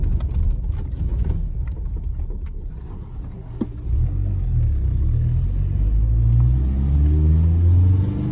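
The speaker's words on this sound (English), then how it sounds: "there goes the trash truck" A trash truck drives past, its engine rumbling low and steady, then swelling louder and closer as it accelerates with a deep, rising growl.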